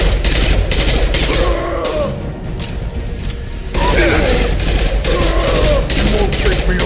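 Gunfire in the video game Mass Effect 2 rattles in rapid, loud bursts of weapon shots mixed with clanking mechanical sounds. A brief lull breaks the firefight before dense shooting resumes.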